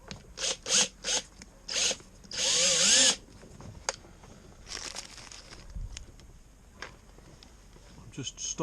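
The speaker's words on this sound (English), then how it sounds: "I'm just stopping short with my drilling" A power drill is used while fitting inner coving, giving several short, sharp whirring bursts and then one longer run before it stops, heard close with quieter handling noises and some talk afterward.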